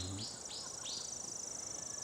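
Birds sing outdoors in a clear, quiet setting, with three quick rising chirps close together, followed by a steady high insect-like trill.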